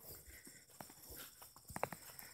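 A horse walks with soft, uneven hoof clip-clops, fairly faint over a quiet outdoor background, with a couple of sharper knocks near the end.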